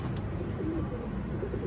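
An Amritsari pigeon of an old Indian breed coos softly and low in brief throaty notes against a steady background hum.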